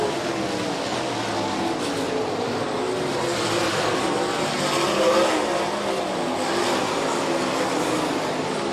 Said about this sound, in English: Battle for 2nd where Shores has the spot by over Rosenboom by about 9 car lengths getting into turn 1.